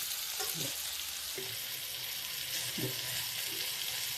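Stuffed ivy gourds (bharva kundru) fry in oil in a pan, giving a constant close sizzle with a few soft stirring knocks now and then.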